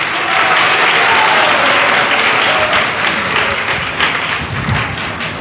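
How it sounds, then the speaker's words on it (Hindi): A church congregation claps together to welcome God during a worship service, steady dense applause filling the room from start to finish without a break. "ताली बजाकर परमेश्वर का स्वागत करें।"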